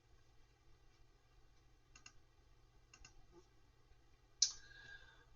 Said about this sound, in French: je suis obligé d'appuyer sur la touche espace